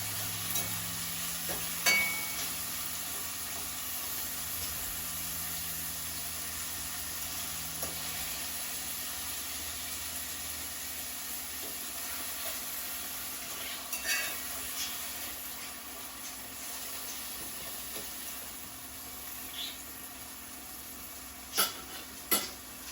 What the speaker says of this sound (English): We're gonna let that saute a little bit before we put in the saltfish onto it.